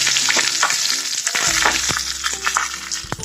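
Curry leaves and chillies crackle and sizzle in hot oil with popping mustard seeds for khichdi, a loud, close, continuous frying hiss with sharp pops and spatters.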